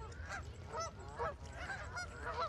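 Geese honk repeatedly in overlapping calls near a river, fairly faint and a little distant, with no talking over them.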